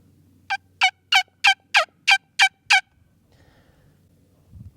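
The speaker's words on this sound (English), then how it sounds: "this will be our final version of the turkey call" A homemade wingbone turkey call gives eight sharp, evenly spaced yelps in a quick run, close and clear against a quiet background, followed by faint rustling.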